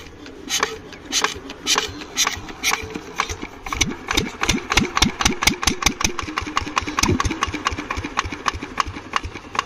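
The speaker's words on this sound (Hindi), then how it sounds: "जैसा कि आप ये इंजन देख रहे हैं कि थोड़ा बहुत स्टार्ट हो रहा है, पर इसके बाद जो है इंजन अपने आप बंद हो रहा है" An engine cranks and catches with a rapid, sputtering series of firing pulses, briefly running unevenly before dying away; the engine is said to have no faults yet still fails to start.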